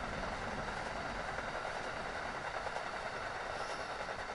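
A train rolls past on rails in the video game Train Sim World 2020, a continuous, fairly close rumble of wheels and cars with a dense, steady roar and no voices.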